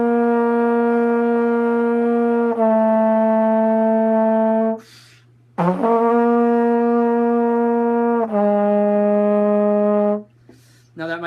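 Trombone notes played with a closed mouth, back teeth together, in a jazz tips demonstration: two sustained, slightly stepped phrases with a short gap, clear and upfront with no talk.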